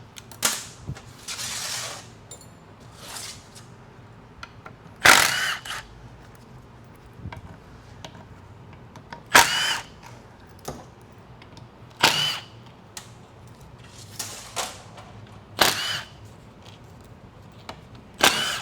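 A power tool spins bolts out of a transmission pan, with sharp loud bursts recurring every few seconds over a quiet mechanical background, up close and with no talking.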